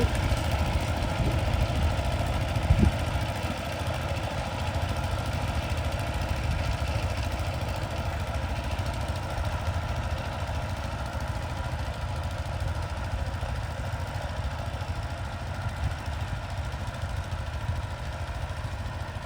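Engine of a Thai-made rice seeding machine working in a sunny paddy field, a steady mid-pitched idling drone with a faint knocking texture, continuous and close throughout, no voices.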